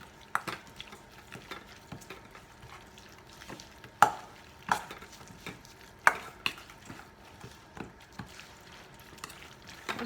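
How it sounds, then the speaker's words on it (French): A tomato paste mixture stirred in a pot, with sparse clinks and scrapes of a spoon against the metal at irregular intervals over a quiet background, close up and without speech. "Vous mélangez bien."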